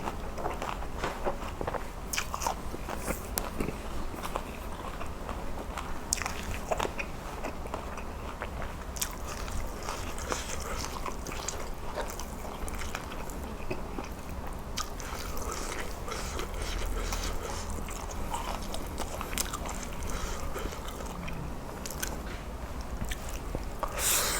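Close, steady chewing and crunching of Korat-style stir-fried noodle papaya salad, with continuous wet bites and munching sounds throughout and no talking.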